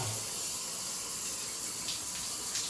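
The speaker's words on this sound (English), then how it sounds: "let's duplicate usage of the shower. We're gonna go this way, we should be hot." Water runs steadily from a repaired shower faucet, a constant hissing spray at moderate level with no speech.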